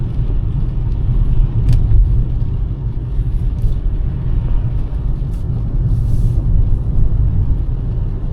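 A taxi car drives along a road on a rainy winter day, a steady low cabin rumble of engine and tyres heard from inside, with a few faint clicks and no talking.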